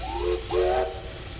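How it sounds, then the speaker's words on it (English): A steam train whistle on the Mount Tamalpais railway sounds two rising, plaintive blasts over a steady hiss of steam, the second blast longer and louder than the first. "the plaintive cry of the whistle"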